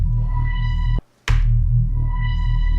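Electronic dance music with a bass-heavy rhythmic pattern runs under a low-pass filter and reverb effect, cutting out abruptly to near silence, then bursting back with a bright reverberant swish as the sound opens up.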